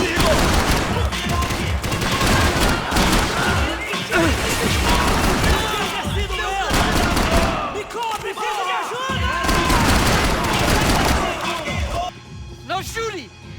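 Heavy gunfire from a combat scene in the Max Payne 3 shooter: sustained volleys and sharp cracks pile up with crashes and impacts for over ten seconds, loud and close, while voices shout amid the fighting.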